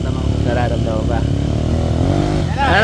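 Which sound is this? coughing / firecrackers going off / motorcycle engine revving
motorcycle engine revving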